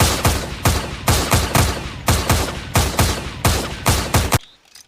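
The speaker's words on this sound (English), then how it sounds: "This is the Vickers machine gun used by Britain and the Commonwealth, also used in both World Wars." A Vickers machine gun fires in the video game Entrenched: about ten evenly spaced, sharp shots in a steady rhythm, loud and close, then it stops abruptly.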